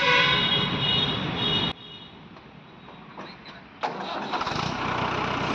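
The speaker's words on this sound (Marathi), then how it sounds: "बघू शकता ट्रॅक्टर चालू झालेलं आहे" A tractor engine rumbles loudly nearby, drops quiet, then cranks and catches, roaring back into a steady running chug.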